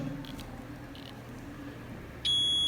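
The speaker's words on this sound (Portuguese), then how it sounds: "Olha só, um lado vai bipar e o outro lado não" A multimeter on continuity test gives a single steady electronic beep near the end as its probe touches one terminal of a component, after quiet probing noises.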